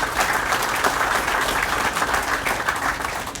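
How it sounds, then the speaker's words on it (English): Steady applause from an audience at a ribbon cutting for a Koch Foods facility, honoring county commission and other elected officials; dense continuous clapping, fairly loud and even throughout, with no talking. "Give them a round of applause."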